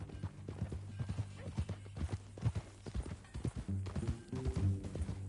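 Horse hooves clip-clop steadily on the ground in the game Red Dead Redemption 2, a continuous rhythmic walking gait heard close, with low rumbling background and no talk.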